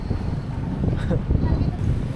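Steady low wind rumbles across the microphone beside a river on a breezy, fair day, filling the whole stretch without a break.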